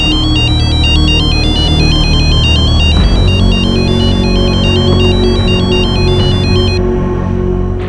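A telephone rings with a loud, repeating electronic ringtone as someone is called, a bright warbling melody that cycles steadily for several seconds over a busy background of music.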